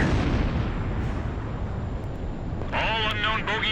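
An aircraft explodes during an Ace Combat 5 dogfight, a loud rumbling blast that rolls on under continuous engine roar before a radio voice comes in near the end.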